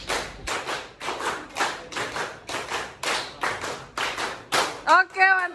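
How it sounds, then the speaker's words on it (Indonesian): A group claps hands in a rhythmic pattern of short bursts, about a dozen evenly spaced rounds, close and fairly loud, ending with a few voices calling out. "Tepuk tangan untuk kita semua"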